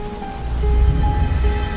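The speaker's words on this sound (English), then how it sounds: "It's raining." A rain sound effect runs inside a hip-hop beat: a constant hiss of falling rain blended with sustained synth tones and a deep, swelling bass that rises slightly midway.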